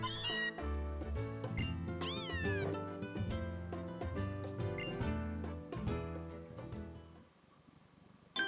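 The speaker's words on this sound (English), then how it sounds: "Hey Mom, I brought another cat home." A cat meows once in Pokémon Ultra Moon over upbeat in-game music with tinkling notes. The cry comes early and rises above the tune before the music thins out near the end.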